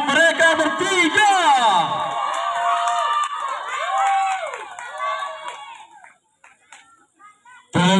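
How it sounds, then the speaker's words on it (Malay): Girls cheering, whooping and shrieking for three performers at a girls' syarhil speech competition. The loud rising calls and shouts taper off near the end, then a short burst returns. "Beri tepuk tangan yang gemuruh untuk mereka bertiga."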